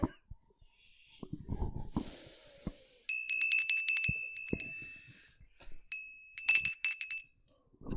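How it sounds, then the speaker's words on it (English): A small bell is rung twice, two bright dings a few seconds apart in a quiet room, with breathing and a little talk around them. "That was 2 bells, Lydia."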